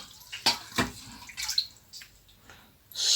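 Lukewarm water is poured into a big bowl in a home kitchen while mixing egg roll dough, giving short splashing pours and drips, fairly close, with no talk.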